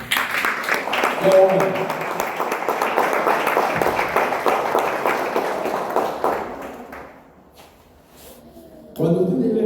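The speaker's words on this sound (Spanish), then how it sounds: "dan un aplauso al Señor" A church congregation applauds the Lord in a thick, sustained round of clapping that tapers off and fades near the end, after which a voice speaks briefly.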